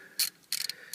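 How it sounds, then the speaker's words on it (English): A ratchet fitted with a socket and small extension clicks while turning a bolt on a 1997-2003 BMW E39 5-Series, giving three short, close bursts of ratcheting within a second. "So my ratchet with the extension, small extension."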